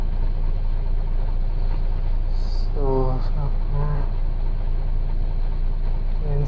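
A Neoplan Starliner bus engine from an ETS2 mod hums steadily from inside the cabin, a low continuous drone that holds throughout, while someone talks over it briefly.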